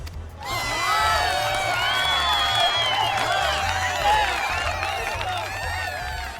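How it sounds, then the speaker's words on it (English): A lively crowd at an in-game fashion event in Final Fantasy XIV cheers and whoops loudly, with shouts and possible clapping running throughout; a low rhythmic beat sits underneath. "let's conclude by giving one more round of applause to our first place fashionistas, Maribel and Silent."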